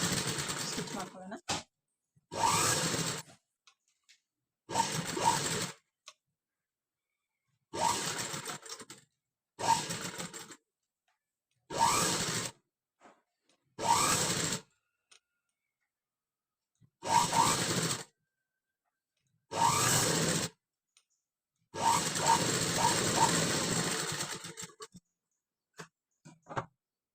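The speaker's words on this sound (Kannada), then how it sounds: "ನೋಡಿ ಇದನ್ನೀಗ ಕ್ಯಾನ್ವಾಸ್ನ ನೀಟಾಗಿ ಸ್ಟಿಚ್ ಮಾಡ್ಕೊಳ್ಳೋಣ." A sewing machine runs in repeated bursts of stitching through canvas for a boat-neck, prince-cut blouse, each run a few seconds long and separated by short silences, fairly close and steady.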